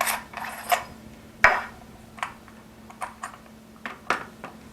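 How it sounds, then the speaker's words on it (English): Parts of a Tippmann TPX paintball pistol being handled as the barrel and CO2 end cap come off: a string of light plastic clicks and taps, close and sparse, with no talking. "Secondly, you're going to want to remove your barrel and CO2 end cap."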